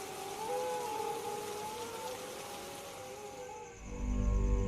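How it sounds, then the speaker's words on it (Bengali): Heavy rain outside in an animated cartoon scene, a dense continuous hiss with a wavering droning tone over it, ending in a low rumbling swell. "বাইরে এত বৃষ্টি হচ্ছে"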